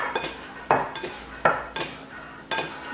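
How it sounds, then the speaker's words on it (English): Flexible plastic scraper scraping sticky, gooey pizza dough out of a bowl onto a board, with about four sharp scraping knocks and soft scuffs between them, close and clear, no talking. "I'm going to scrape this out onto the board."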